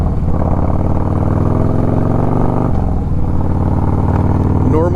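A motorcycle ridden on the commute to work, its engine droning steadily and loud with a low rumble, a brief dip in pitch partway through, and a voice faintly mixed in.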